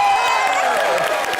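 Studio audience applause on a comedy show, a dense, steady wash of clapping and crowd noise filling the whole short stretch.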